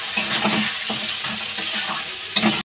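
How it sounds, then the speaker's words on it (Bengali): Mutton for mutton kosha being stir-fried in a pan, a continuous close sizzle with rhythmic scraping strokes of a spatula, ending abruptly. "আমি একটু ভালো করে কষিয়ে নিয়ে জল দিয়ে দেবো।"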